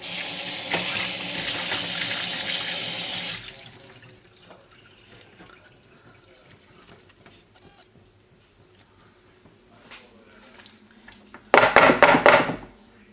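Tap water runs hard over salted cabbage for kimchi, a loud splashing rush for about three seconds. Quieter handling and dripping follow, then a brief second burst of running water near the end.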